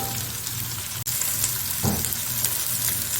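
Green chilies hit hot oil in a frying pan with onions, raising a steady loud sizzle with a brief stir and clatter midway, no voices present.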